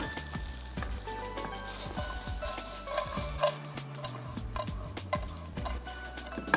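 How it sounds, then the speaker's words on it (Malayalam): Potatoes fry crisply for honey chilli potato, a close, crackling sizzle with small pops and stirring clatter, moderately quiet and continuous without speech. "ഈ മിക്സിലേക്കാണ് സൗണ്ട് കേട്ടോ, നല്ല ശരിക്കും നല്ല ക്രിസ്പി ആയിട്ടുണ്ട്."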